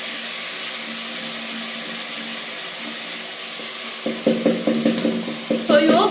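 A wooden cooking stick stirs and crushes tomatoes in a pan, with a steady watery sizzle throughout and a few distinct scraping, knocking strokes toward the end.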